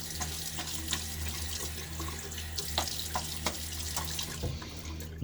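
Steady running water from a tap splashes continuously during a wet shave rinse, close and fairly loud, with small drips and splashes on top and no talking.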